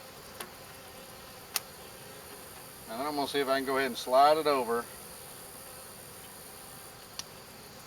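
Honey bees hum steadily around a broken frame in a nuc hive, a faint continuous drone close by, mostly masked for a few seconds while someone talks over it.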